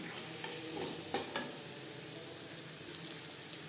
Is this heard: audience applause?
no